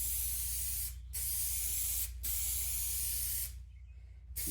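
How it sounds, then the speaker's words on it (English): An aerosol can sprays paint onto the hood of a 2005 Ford Freestyle in three long steady hissing bursts, each followed by a short pause. "This stuff sprays nice."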